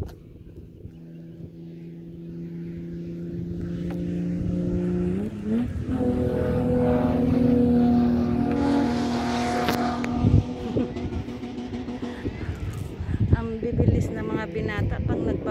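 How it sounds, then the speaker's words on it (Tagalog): Car engines hum and rev as vehicles drive past in a parking area, building to a louder pass midway before settling into steady traffic noise. "Binata pang nagpapatakbo ng mga sasakyan."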